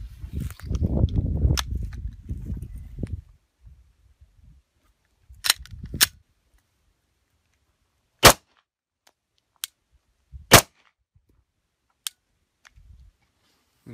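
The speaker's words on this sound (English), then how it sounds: "you hear that perfect click. That click as he's letting out to the reset." A Glock pistol's trigger resetting gives sharp, isolated metallic clicks, several spaced seconds apart, close and crisp against near silence, after a stretch of low handling rustle at the start.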